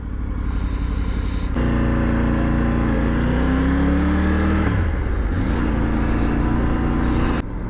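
A Triumph Tiger 900 GT Pro motorcycle engine runs loud and steady on a road ride, its revs climbing and dropping through several gear changes with strong low rumble throughout and no talk.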